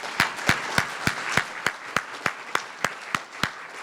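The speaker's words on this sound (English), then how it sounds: "I think our public health heroes deserve a round of applause here." An audience applauds public health workers at a city club talk on measles, with a dozen evenly spaced, distinct claps ringing out in a steady rhythm at moderate volume, no talking over them.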